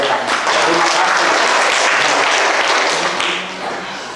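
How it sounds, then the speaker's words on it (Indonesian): Applause from wedding guests at a traditional Toraja wedding, honouring the choir that performed; dense, steady clapping from a crowd close by, loud throughout and tapering off near the end. "Kita beri aplaus kepada mereka."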